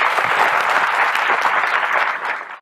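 Steady, dense applause from an audience at a tourism event, sustained and loud throughout before cutting off abruptly at the end.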